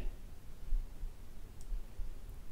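A faint mouse click on a Next button during computer setup, a single soft tick over low background hiss.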